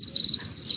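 Crickets chirping as a sound effect, a steady high trill pulsing rapidly and loudly over a faint low murmur.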